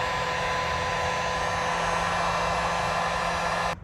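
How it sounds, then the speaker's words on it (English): A heat gun shrinks heat-shrink tubing on a battery cable, blowing with a steady, loud, close whooshing hum that holds evenly for several seconds before cutting off at the end. "Right now we're just gonna use a heat gun and let the heat shrink"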